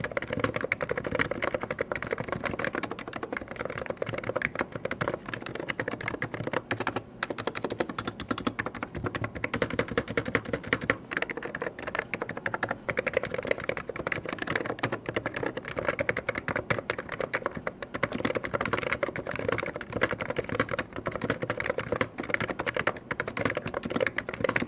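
Rapid, continuous typing on a Hansung electro-capacitive (contactless) mini keyboard with bubbly-feeling keys, a dense stream of soft, close key presses with no voice over it.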